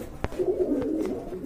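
Domestic pigeons, including two females, coo softly in a low, rolling murmur at close range, with a sharp click near the start and a few faint taps.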